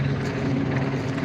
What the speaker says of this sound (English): Helicopter above, so let me just let it go for a second.